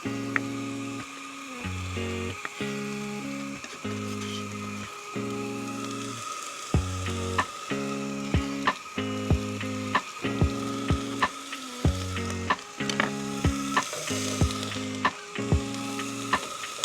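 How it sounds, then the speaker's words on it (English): Steady crackling sizzle of food frying in a pan at a campsite, close by, with a low rhythmic tone pulsing over it and sharp clicks now and then. "pan sizzling"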